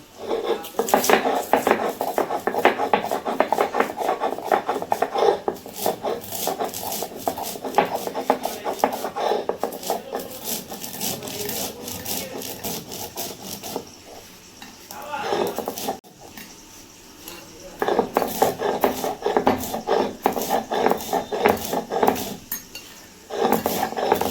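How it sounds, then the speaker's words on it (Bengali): Spices ground by hand on a shil-pata stone slab for a mango oil pickle give a steady, close, rhythmic scraping and rubbing that runs throughout, with a short lull near the middle before resuming. "এখন এটা আমি গুঁড়ো করে নেব পাটাই গুঁড়ো করে নেব"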